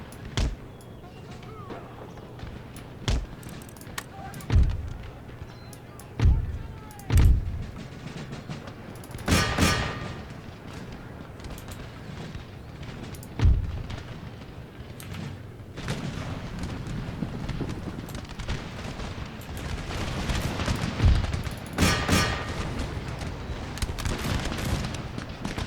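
Artillery batteries firing in support during an Empire: Total War battle as a USA army, with several sharp booms spaced irregularly, some loud and near, others distant, over a steady low battlefield rumble.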